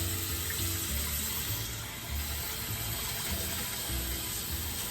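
Tepid water runs from a tap into a container, a steady close rush of flowing water that continues throughout without talk.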